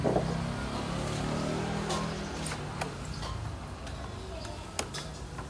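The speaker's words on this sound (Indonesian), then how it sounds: "coba kita cek sound suara mesin 4 klep 192 cc knalpot" A 192 cc four-valve motorcycle engine with a silent gutted exhaust and its CVT removed idles steadily with a low, muffled rumble and scattered light ticking, no revving, fairly quiet throughout.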